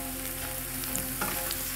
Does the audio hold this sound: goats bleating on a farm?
no